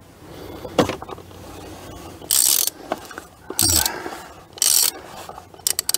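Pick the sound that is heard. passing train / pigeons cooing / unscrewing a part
unscrewing a part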